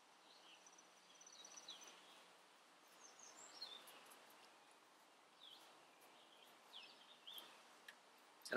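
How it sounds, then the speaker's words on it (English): Faint outdoor birdsong of robins and grackles with scattered chirps and whistles over a quiet background hiss, distant and intermittent, ending with a brief louder rustle. "I don't know if you can hear the birds."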